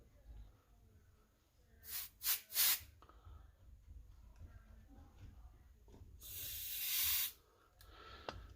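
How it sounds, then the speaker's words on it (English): Compressed air hisses through a cleaned Coleman 530 G.I. pocket stove part in two short, sharp bursts. The second burst is longer and steadier, and a faint low background rumble runs between them. "I'm gonna do a little bit of forced air,"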